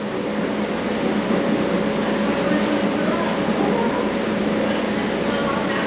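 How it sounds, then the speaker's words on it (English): A continuous low rumble and steady roar of rolling train cars, with a faint sustained hum, dense and unbroken throughout. "this is how they inspect moving train cars"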